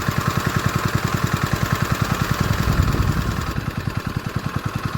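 A Warton 8HP pump engine runs under load with a steady, loud, rapid chugging pulse, the rhythm holding throughout with no voices.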